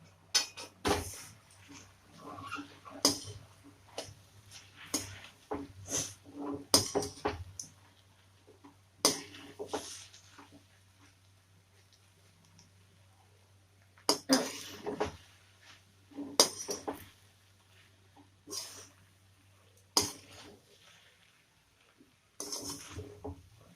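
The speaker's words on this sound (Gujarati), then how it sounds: "હવે આપણે સરસ બધું મિક્સ કરીશું." A utensil clanks and scrapes against a pan as Schezwan fried rice is stirred and mixed, giving scattered sharp metallic clinks over a quiet low hum, with no talking.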